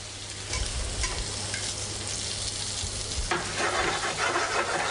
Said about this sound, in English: You fry for about 1 minute one side, and then you turn them and fry it again.